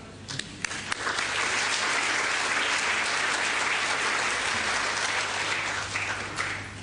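A conference audience applauds to welcome a plenary speaker, steady dense clapping from a large crowd that swells and holds for several seconds before tapering slightly.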